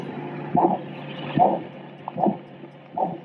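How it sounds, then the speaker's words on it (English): A sleep machine's womb heartbeat recording: muffled, low thumps pulse in a slow, steady rhythm over a murmuring hum, like a heartbeat heard from inside. "That's how this heartbeat sounds when you're in the womb."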